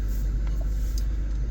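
A 2024 Porsche Panamera engine runs parked, a steady low rumble with no talk over it, shortly before being shut off.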